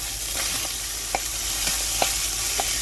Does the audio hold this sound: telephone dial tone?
no